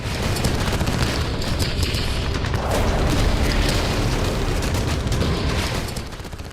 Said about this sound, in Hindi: रूस ने इतने बड़े पैमाने पर ओडेसा को निशाना बनाया कि आसमान में आतिशबाजी जैसे विस्फोट नजर आने लगे।